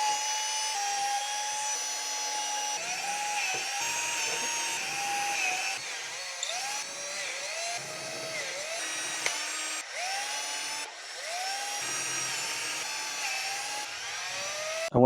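Power drill boring holes with successively larger bits during a volume knob addition on a Saab 9-3, a loud whining motor that rises and falls in pitch through repeated short bursts, close up with no talking.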